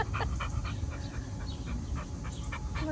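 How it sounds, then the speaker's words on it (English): A dog pants quickly and rhythmically up close, the short breathy puffs repeating about a dozen times over a low background murmur. "Look at this dog."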